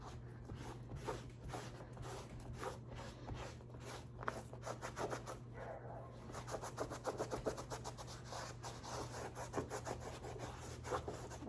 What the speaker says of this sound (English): get your damp cloth and then just rub completely on anywhere